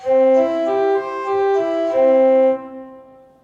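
A pipe organ's principal 8-foot stop plays sustained, clear tones, shifting through a few held chords before the sound fades away.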